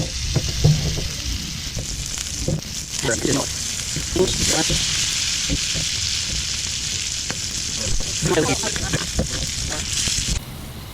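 Rainbow trout fillets sizzle in melted butter in a hot pan, a steady, loud crackling hiss that swells as the pan is swirled, with people talking over it.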